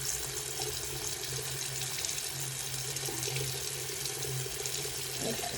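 Tap water runs steadily into a sink while a face is washed, a constant close rushing stream at fairly even loudness, with faint splashes near the end.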